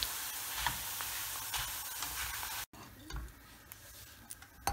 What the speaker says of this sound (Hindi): अब हम इसमें पोहा डाल देंगे, पोहा को भी फ्राई कर देंगे